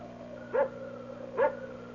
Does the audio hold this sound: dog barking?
yes